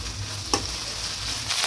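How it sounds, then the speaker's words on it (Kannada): Mint leaves frying and being stirred in a pan, a steady faint sizzle with a sharp scrape of the spatula partway through and another stir near the end, no voices. "ಪುದೀನಾನ ಸ್ವಲ್ಪ ಈ ರೀತಿ ಚೆನ್ನಾಗಿ ಫ್ರೈ ಮಾಡಿ, ಅದು ಚೆನ್ನಾಗಿ ಫ್ರೈ ಆಗಬೇಕು."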